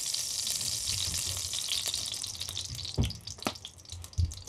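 Oil sizzling in a frying pan while venison is braised in a Küchenhexe wood stove, a soft steady crackle broken by a few sharp pops and clatters near the end.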